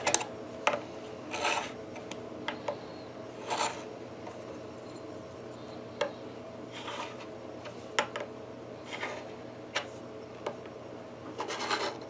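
A fret rocker scrapes and clicks across the frets of a Fender Squier Mustang guitar to check their level, producing short, scratchy rubbing strokes in irregular bursts at close range against a quiet background hum.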